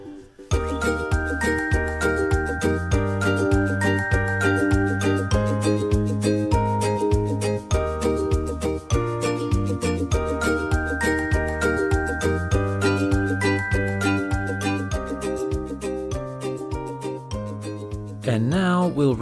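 A podcast theme tune plays alone for about nineteen seconds: steady rhythmic music with a driving bass pulse and bright, chiming melodic notes, loud and continuous before cutting off at the end.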